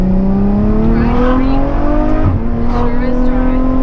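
Ferrari F12 with a 730 hp engine heard from inside while driving, a loud sustained engine drone rising steadily in pitch, dipping briefly at a shift and then climbing again.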